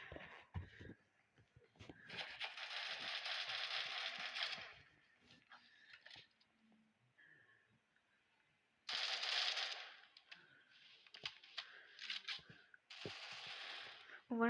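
Bursts of automatic gunfire in a shooting video game, several sustained volleys separated by short pauses, loud and close, with a voice talking faintly in between.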